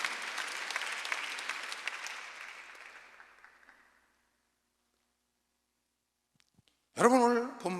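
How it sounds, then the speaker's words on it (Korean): A church congregation at a Sunday service claps together in sustained applause that fades away into silence. Afterward a voice begins speaking. "박수야"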